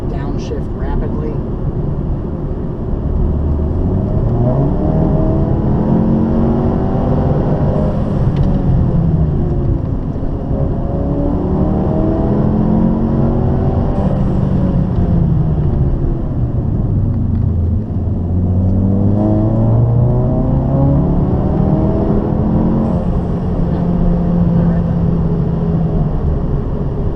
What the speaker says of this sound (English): So let's see if anything funny happens if we downshift rapidly.